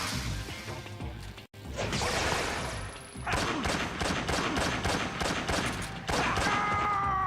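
Rapid gunfire from the SVD sniper rifle in Metal Gear Solid 3 on PS2, a dense run of loud repeated shots and sharp impacts with whooshing game effects, no talk.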